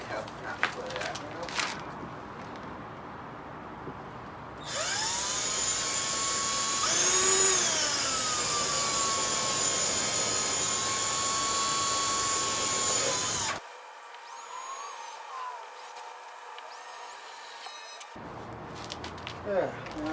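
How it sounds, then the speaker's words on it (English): A power drill with a 10mm bit whines loudly at high speed for several seconds drilling thick plastic on a 2019 Toyota Corolla Hatchback, pitch bending under load, then stops, with occasional knocks and handling noise. "Use a 10mm drill bit."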